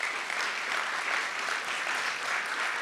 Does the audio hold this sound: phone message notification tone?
no